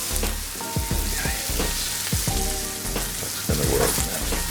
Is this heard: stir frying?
yes